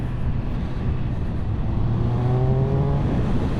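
A Triumph Speed Triple 1200 RS motorcycle accelerates hard in sport mode, its engine note rising steadily under loud, constant wind rush from close by, with no talk.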